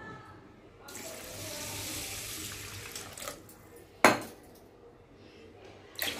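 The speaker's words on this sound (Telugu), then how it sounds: "నీళ్ళు పోసుకుందాం." Water is poured over soaked punugulu batter ingredients in a steel vessel, a hissing pour for a few seconds followed by a sharp metallic clink and quieter handling.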